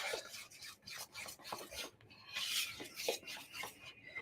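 Fork scraping and tapping against a mug while mixing protein mug cake batter, a continuous rapid rasping and clinking, close and fairly quiet, with no talk.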